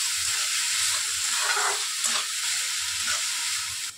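Chopped onion stirred in a hot oiled pan during paneer cooking, with a steady loud sizzle and hiss under the scrape of a spoon, continuous with no talk.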